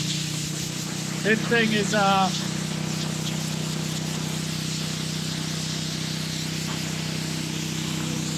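Air compressor blow-off valve releasing compressed air in a constant broadband hiss that runs loud and unbroken, with someone briefly speaking over it near the start.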